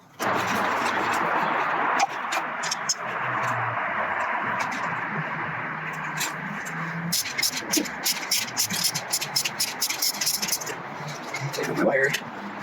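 A 1994 Suzuki Katana motorcycle engine runs with a rough, uneven note and irregular popping bursts suggesting misfiring, loud and close throughout, with occasional metallic jangling.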